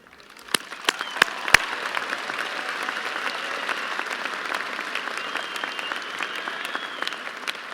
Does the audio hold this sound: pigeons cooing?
no